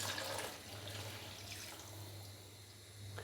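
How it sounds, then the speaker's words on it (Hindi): A glass of water is poured into a pot of chicken biryani that has been frying on high flame, a steady, close splashing gush that runs for about three seconds over a low kitchen hum. "तो अभी मैं इसके अंदर 1 गिलास भर के डालूँगा पानी"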